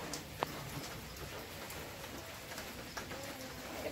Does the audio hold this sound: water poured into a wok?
no